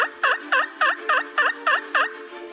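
A male wild turkey gobbles repeatedly during a spring hunt in a cedar grove, seven loud, close, evenly spaced rattling calls with no other sound between them.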